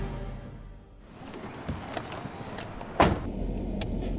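A car rolls along a road through the Valero oil refinery, its low interior hum and road noise quiet and steady, with a sharp click or thump partway through.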